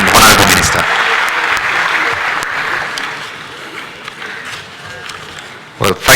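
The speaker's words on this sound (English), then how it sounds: "Another round of applause, ladies and gentlemen, for the Chairman and Honorable Minister." A conference audience claps steadily for the Chairman and Honorable Minister, a dense, even patter of applause that fades slightly over several seconds before a few louder claps near the end.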